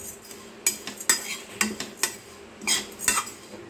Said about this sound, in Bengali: আমি শুকনো কড়াইয়ে রোলড ওটসটাকে একটু রোস্ট করে নেব এবং এটা ড্রাই রোস্ট করে নেব।